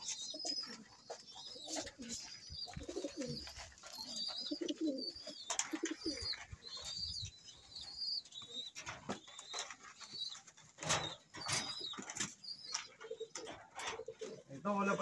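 Pigeons in a fancier's loft coo softly and repeatedly in low, rolling calls, with a few scattered chirps and faint voices in the background.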